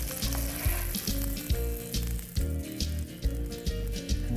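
A trout fillet fries skin-side down in a pan with a constant close sizzle and crackle, alongside a low rhythmic pulsing tone and no speech.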